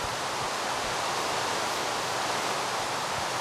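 Rain falling in Minecraft, a dense, even hiss of steady rainfall filling the whole stretch without pause, constant loudness and no voices.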